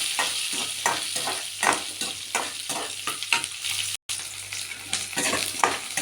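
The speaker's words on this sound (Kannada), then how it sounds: "ಮೆಣಸಿನ್ಕಾಯಿ, ಇಷ್ಟು ಈರುಳ್ಳಿ ಹಾಕಿ ಇದೆಲ್ಲ ಫ್ರೈ ಮಾಡೋದು." Onions and green chilies frying in a pan for palak rice, a steady close sizzle with rhythmic scraping stirs throughout and one very brief dropout.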